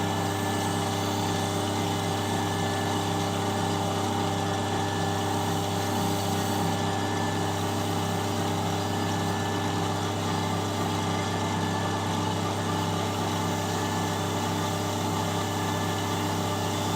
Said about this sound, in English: Now you heard the compressor running just a second ago